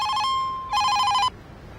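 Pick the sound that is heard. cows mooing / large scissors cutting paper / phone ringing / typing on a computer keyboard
phone ringing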